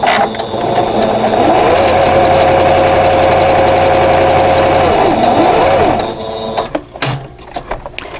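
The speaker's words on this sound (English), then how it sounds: "sew 1/4 inch away from both sides of that diagonal line" A sewing machine stitches quilt block pieces with 50 weight thread at a 2.0 stitch length, running as a loud, steady mechanical whir for several seconds before it stops and a few handling clicks follow.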